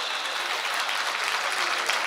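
Audience applause at a Hindi poetry recital, a dense, steady burst of clapping from a crowd lasting throughout, fairly loud and even.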